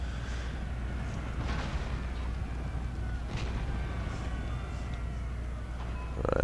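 Cannons being blown apart in a video game battle: a steady, dense rumble of distant explosions and gunfire fills the clip, with a heavier burst near the end and no talking.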